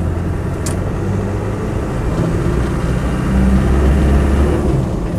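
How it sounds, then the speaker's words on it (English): A Land Rover 90 station wagon with a 200TDi diesel engine runs under load, a loud, continuous low drone from inside the vehicle that swells slightly partway through, with no one talking. "Engine pulls well."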